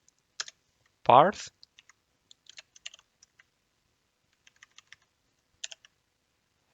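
Keys tapped on a computer keyboard while entering C# code, a scattering of light clicks in short bursts under a voice, with brief speech near the start.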